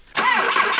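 A BMW 2002 engine catches and fires on MAF cleaner sprayed as starting fluid, bursting into a loud, rough mid-pitched run after a brief quiet moment and holding steady to the end.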